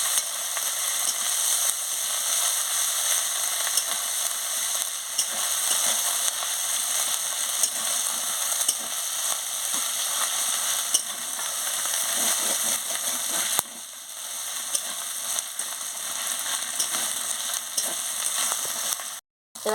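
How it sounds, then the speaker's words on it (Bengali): Ginger and garlic frying with browned onions in a pan for a soybean and papaya curry, giving a steady, close hiss of sizzling oil that runs on without talk. "দিয়ে ভালো করে ভেজে নিচ্ছি।"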